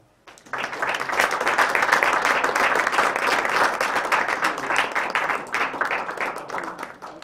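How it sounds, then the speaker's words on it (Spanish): An audience at a Spanish-language lecture on capitalist enterprise and the common good breaks into sustained applause, steady dense clapping that starts abruptly, holds strong for several seconds and thins toward the end. "Yo lo que pediría es un aplauso para..."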